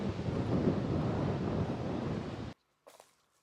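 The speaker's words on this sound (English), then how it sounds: "There's cold wind blowing" Cold wind gusting across a lakeside stretch of the Florida Trail, buffeting the microphone in a loud steady rush that cuts off abruptly, leaving near silence with one faint brief rustle.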